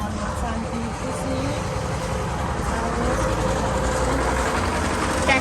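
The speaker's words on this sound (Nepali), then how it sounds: "ट्र्याक्टरले गरे केही सुनेन" A tractor engine rumbling close by as it passes along a circumambulation path at Swayambhu, a steady heavy drone filling the whole moment with faint voices beneath.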